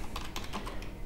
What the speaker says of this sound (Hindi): कंप्यूटर की तरफ आइएगा तो यहाँ पे कमांड विंडो पे कमांड टाइप कीजिएगा